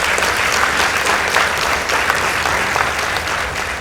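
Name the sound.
audience applause for Sawagongo High School at a debate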